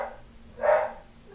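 A pet dog gives a single short bark, faint and somewhat distant, in an otherwise quiet room.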